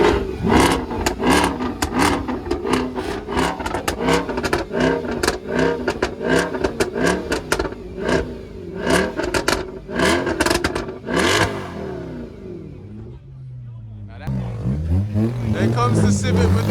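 A Mercedes-AMG C63 with a 6.2 V8 revs hard at a Japanese car meet in Reading, giving a series of loud, rising and falling blips in quick succession, then settling into a lower, quieter rumble near the end.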